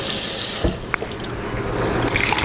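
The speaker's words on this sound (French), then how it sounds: "je vais juste verser avec un peu d'eau pour la sauce" Water is poured over spices for a steamed catfish sauce in Liboke ya Ngolo style, a close, steady rushing splash that wavers briefly before continuing.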